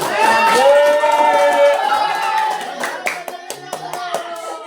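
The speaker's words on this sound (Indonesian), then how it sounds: "Tepuk tangan, terus tepuk tangan." A class of children in a school lesson call out together, then break into a short burst of sharp hand claps close by.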